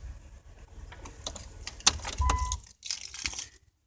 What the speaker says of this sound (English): And I'm going to shut the vehicle off.